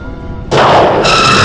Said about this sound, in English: Klingon is firing.